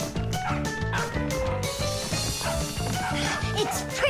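A cartoon dog barks in short yips over bouncy background music in a children's animated show, the barks repeating in a quick rhythm under the score.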